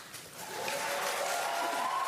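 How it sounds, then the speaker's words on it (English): A crowd cheers after a question about government health coverage for undocumented immigrants, a dense roar that swells within the first half second and holds steady and loud to the end. "And the crowd cheers."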